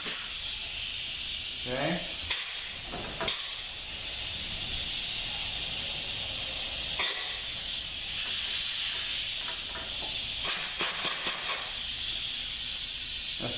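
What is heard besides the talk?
compressed air hissing into transmission clutch during air check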